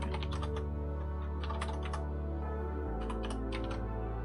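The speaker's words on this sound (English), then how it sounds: "Hopefully my keyboard is not too loud." A new computer keyboard clatters with bursts of fast typing, crisp keystrokes in quick clusters and short pauses, close and fairly loud over a constant low background hum.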